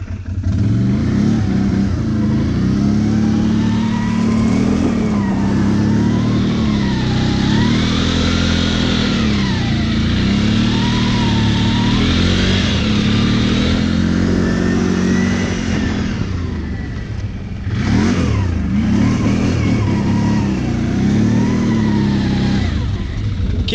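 An ATV engine revs hard and continuously while the quad slides sideways, its pitch rising and falling in waves. A brief dip comes near the end before the engine climbs again. No talking is heard.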